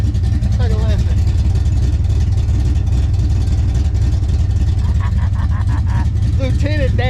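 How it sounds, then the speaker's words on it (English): A loud engine of an old barn-find car, unmoved since 2005, rumbles steadily up close while voices talk over it, the note rising and falling with bursts of revving. "Lieutenant Dan sounds like a monster."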